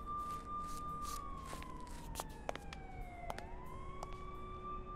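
An ambulance siren wails steadily in the Blacksad: Under the Skin video game, its tone sweeping down and back up over a constant rumble, broken by sharp clicks and thuds.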